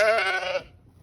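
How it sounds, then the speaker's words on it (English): Sheep and ewes bleat together in a barn, a close, loud chorus of overlapping harmonic cries that cuts off abruptly partway through, leaving quiet low rumble. "you can hear the ewes and sheep in here"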